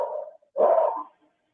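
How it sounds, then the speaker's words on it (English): A dog barks loudly in two bursts, the sound echoing through the surrounding area, with a short pause between barks and no talking. "So that loud ass barking is echoing through the whole area."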